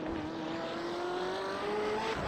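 BMW M8 GTE race car engine in iRacing at Silverstone, rising steadily in pitch as it accelerates out of a corner, loud and close with a continuous tonal whine and no talking.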